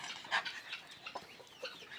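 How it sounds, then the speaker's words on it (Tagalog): Heritage chickens on a mini poultry farm give soft, scattered clucks and chirps, fairly quiet and close, with no talking. "Guys, yung mga heritage chicken ko yan, guys."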